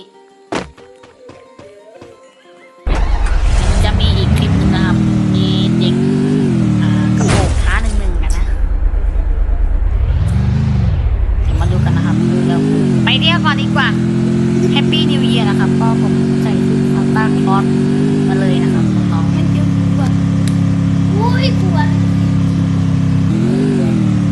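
Motorbike ride on a Thai road with cars passing close alongside; engine drone swells and fades repeatedly from about three seconds on, loud and steady with rising and falling pitch, and a voice talks over it.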